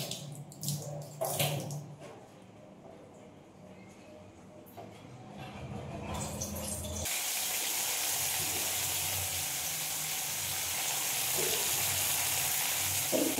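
Dry red chillies and a bay leaf hit hot oil already holding cumin seeds for dal. Quiet kitchen handling gives way to a sudden loud, steady sizzle that carries on to the end.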